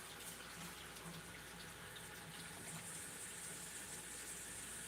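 A blender is washed under a running kitchen tap, a steady hissing gush of water with light splashing against the container, fairly faint and continuous throughout.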